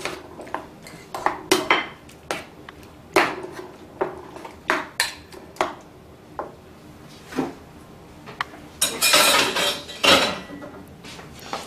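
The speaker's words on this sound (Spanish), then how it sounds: "Esto lo removemos bien para que se empape el huevo y la patata." Beaten egg and sliced potato stirred in a bowl for a Spanish potato tortilla, with a utensil knocking and scraping against the bowl in irregular, clattering strokes, close and fairly loud, busiest near the end.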